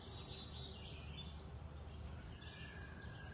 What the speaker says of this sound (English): being able to sit in nature and hear the birds chirping.